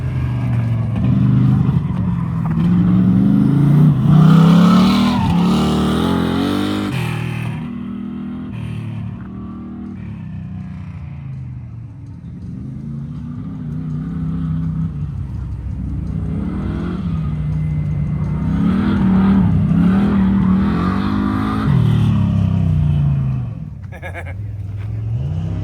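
A car at an autocross event drives a pass on a wet track, its engine loud and close, rising in revs through two long acceleration pulls with a lift and dip between them, tires and wind noise mixed in.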